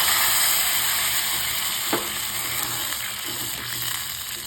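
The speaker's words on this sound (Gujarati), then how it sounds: "એને આપણે સારી રીતે સાંતળી દઈશું. હવે આ મરચાં સંતળાઈ જાય" Green chillies sauté in hot oil in a pan while making nylon khaman, a loud continuous sizzle and crackle with a single sharp knock partway through, heard alone without voices.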